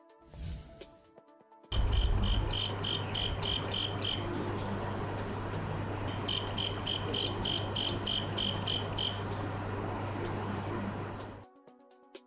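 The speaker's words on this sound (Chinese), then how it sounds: "可以不时听到由露台传来的蟋蟀声" Crickets chirp steadily from a home balcony in Zhaoqing, a dense continuous trill with repeated pulsed bursts, fairly loud and close, with a low steady hum beneath and no talking.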